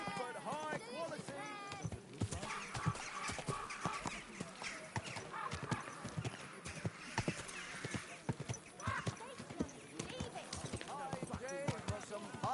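Horse hooves clip-clop in a steady rhythm along a town street while voices talk over them and a man calls out his wares, the hoofbeats close and continuous beneath the chatter.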